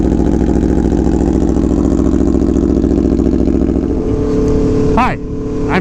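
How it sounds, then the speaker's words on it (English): An Aprilia Tuono V4 Factory motorcycle idles loud and close after a cold start, its steady throbbing engine note dropping near the end as a brief voice cuts in. "Cold starting this bike never gets old."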